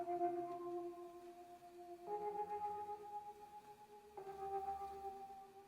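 Chopped synth chords from a chill hip-hop beat play forward in three sustained stabs, each holding a steady tone and shifting pitch about every two seconds, soft and alone with no voices.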